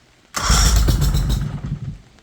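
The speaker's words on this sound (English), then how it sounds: "I'll just turn to 1 notch and let's see if it turns over" Mercury outboard motor turning over on its electric starter during no-start troubleshooting, one short loud cranking burst of about a second and a half that fades out, with no voices.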